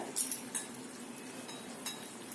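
A spoon scrapes and clinks against a pan while poha with onion, fresh coconut and coriander is mixed, quiet close stirring with a few sharp metallic taps over a soft steady background.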